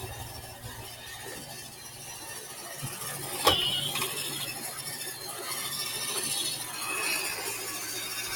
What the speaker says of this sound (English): And Brutus is getting down to see this action of the Roomba